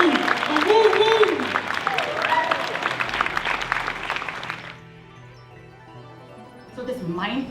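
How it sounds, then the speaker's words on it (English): An audience at a family summit gathering breaks into loud, dense applause that swells and then fades away, with a voice cheering over it and speech returning at the end. "Please give her a round of applause like we do."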